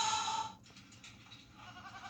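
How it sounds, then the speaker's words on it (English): Goats bleat in a TV advertisement, one loud, close, nasal bleat followed by softer, wavering calls that fade and return. "What's with all the goats?"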